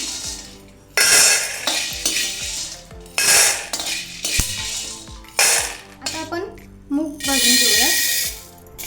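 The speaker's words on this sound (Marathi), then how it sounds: "आपले हरभरे आणि वाटाणे भाजून झालेले आहेत आता हे काढून घेऊ" Roasted chickpeas and peas scraped and scooped out of a pan, with loud metal spatula clatter, scraping and rattling in bursts, close and busy, with faint sizzle beneath.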